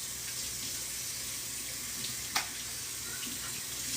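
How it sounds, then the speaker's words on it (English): Tap water runs steadily into a sink while a tie-dye shirt is rinsed under it, a continuous close hiss with one brief splash near the middle. "You want to rinse all your shirt until the water is running clear."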